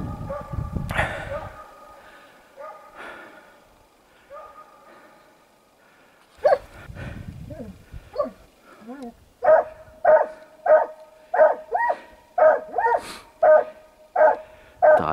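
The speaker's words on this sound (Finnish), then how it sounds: "Hyvin haukku kuuluu." A hunting dog chasing a hare in pine forest barks from a distance, at first sparse and faint, then in a steady run of regular, louder barks toward the end, with quiet human voices near the start.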